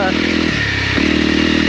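A 2022 Honda CRF300L single-cylinder motorcycle engine runs steadily and then rises as the throttle is blipped at low revs, with someone talking over the engine throughout.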